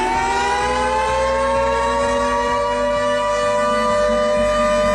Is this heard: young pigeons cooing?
no